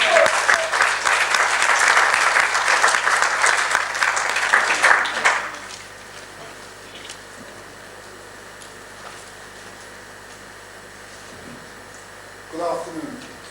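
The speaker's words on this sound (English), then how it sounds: "So just a round of applause for Bob Baker." Audience applause at a Black History Month launch event in Luton, a dense burst of clapping for about five seconds that stops abruptly, followed by quiet room tone and a brief faint sound near the end.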